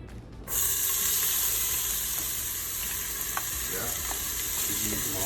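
Onion hitting hot olive oil for a bolognese: a sudden loud sizzle that bursts in after a brief quiet start, then holds as a steady bright hiss with a few small pops and clinks, close up.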